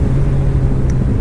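A 2009 Kawasaki Ninja ZX-14 motorcycle accelerates hard on the throttle, a brief, loud, dense engine roar heard close up.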